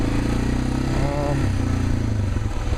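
A motorcycle rides along a small side road toward a mountain peak, its engine droning steadily and close throughout, with someone talking over the noise.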